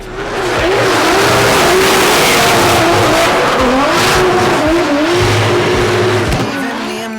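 Drift cars at a big drifting event at Meihan Circuit in Japan rev loudly and continuously, engine pitch climbing and falling through slides, with tire squeal and heavy, constant noise throughout.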